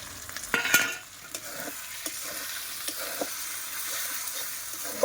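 Spices frying with turmeric and salt in a pan for a meat curry, a soft sizzle running underneath as a utensil scrapes and stirs, with a louder clatter near the start and a few lighter knocks later.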